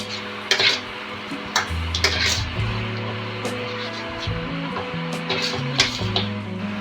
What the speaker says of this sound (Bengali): এখানে আলু মশলাটা একটু শুকনো করে নিতে হবে কষে